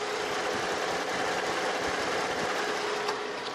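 A Lincoln MKZ's 3.5-litre gasoline engine idles steadily up close in the open engine bay, a smooth, even hum with a light mechanical ticking that never changes pace.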